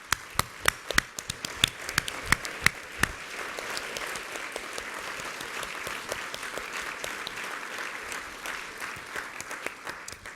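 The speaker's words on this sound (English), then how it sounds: "Let's give them all another round of applause," Audience applause at a 2016 engineering award ceremony honouring young women, sharp individual claps at first that blend into a dense, even clapping texture, moderately distant in a hall.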